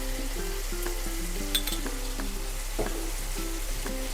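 Curd being fried and mixed with cream in a pan for chilli paneer, a constant close sizzle with intermittent scraping strokes of a spoon, no voices.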